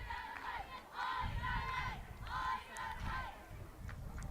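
A softball team's dugout at a varsity game chants and cheers in rhythmic bursts of young voices, loud and steady, with a crowd murmuring underneath.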